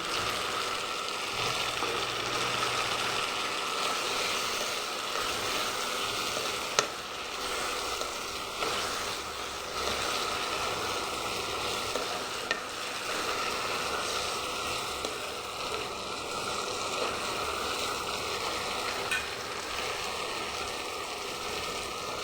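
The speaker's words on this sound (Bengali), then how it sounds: "ভালো করে মশলাটাকে কষিয়ে নেব যতক্ষণ তেল না ছেড়ে যায়।" Spice paste for a Bengali rui fish curry sautéing in oil, a steady, close sizzle and crackle that holds evenly throughout, with no talking.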